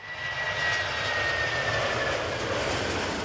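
A fixed-wing airplane flies overhead with a steady, loud broadband engine roar that holds for the full few seconds, with no voices present.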